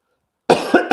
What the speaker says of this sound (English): as I coughed, I went crazy with the drawing